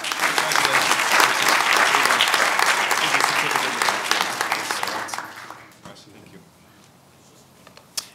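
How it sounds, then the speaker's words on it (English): Audience applause at an HRC awards ceremony in 2017, a loud sustained burst of clapping from a large crowd that fades away over the last few seconds. "a round of applause"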